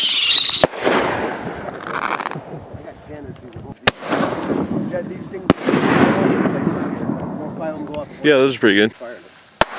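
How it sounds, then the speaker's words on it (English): Illegal consumer fireworks go off at a legal desert shoot site in Pahrump, Nevada: sharp bangs and crackling bursts in close succession, with people talking between the blasts. "they have a legal shoot site where you can shoot illegal fireworks"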